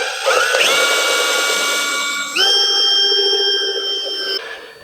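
A power drill enlarging a hole to 5/8 inch while lights are installed on a Factory 5 Racing roadster body, a loud whining motor that shifts pitch upward mid-run with a brief dip, then tapers off.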